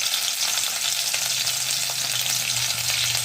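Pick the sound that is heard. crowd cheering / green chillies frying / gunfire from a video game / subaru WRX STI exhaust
green chillies frying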